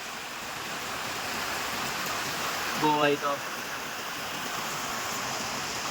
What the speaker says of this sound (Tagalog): Hindi ako makalabas, ang lakas ng hangin.